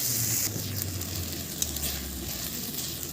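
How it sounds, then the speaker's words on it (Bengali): Spices sizzling and frying with chopped tomato and ginger paste as they are stirred in a pan for a lentil-fritter curry, a steady soft hiss with faint scraping, close and continuous. "ভালো করে নেড়ে নেব মশলাগুলো"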